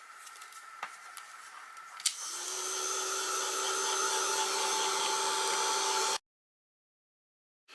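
A heat tool drying a watercolour art journal page starts after a few light clicks and taps, then blows with a steady high-pitched whirring hum for about four seconds before cutting off abruptly into silence.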